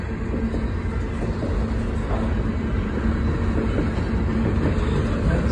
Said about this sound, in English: I think the train is at least going like 40 miles per hour right now.